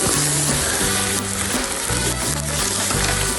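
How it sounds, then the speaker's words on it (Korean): Pork belly (samgyeopsal) sizzles and crackles on a grill at a Korean barbecue restaurant, a loud, close, continuous sizzle with a tonal musical pattern running underneath. "삼겹살 굽는 소리부터 먹음직스러워요"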